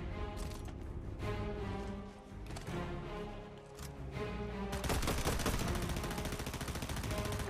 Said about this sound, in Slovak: Tak strieľaj po ňom.